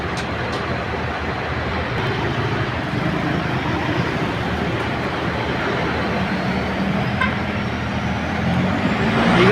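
A Bachelor Tours bus, number 4521, bound for Butuan City rumbles past at a Davao city terminal, a steady loud engine drone with broadband road noise building slightly toward the end, no voices.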